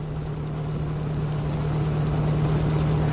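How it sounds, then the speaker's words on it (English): An asphalt distributor's engine and pump run together in a steady, loud low hum with a strong droning tone, unchanging and without talk. "While the engine and pump are still running"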